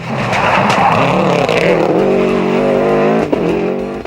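Subaru rally car with a 2.0-litre EJ-20 boxer engine screams at high revs, close and loud, its note dropping as it shifts, with tyre squeal and a sharp blip near the end.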